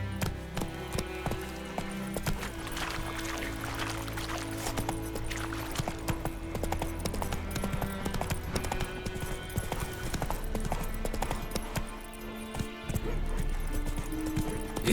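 Horse hooves clip-clop at a steady gallop in The Witcher 3 video game, rhythmic and close, layered over continuous game music with an occasional whinny.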